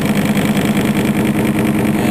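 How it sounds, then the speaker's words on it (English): A small homemade magnet-motor flywheel drives a 12 volt generator that puts out AC current, making a loud, steady mechanical whir with an even droning hum that holds unbroken from start to finish, with no talking. "Little tiny thing I rigged up over to a 12 volt generator, which is producing, as far as I can tell, AC current."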